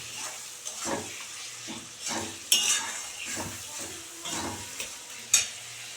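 Prawns stir-fried in a pan, a soft sizzle broken by scraping stirs and a few sharp clinks of a utensil against the pan, close and fairly quiet with no voices.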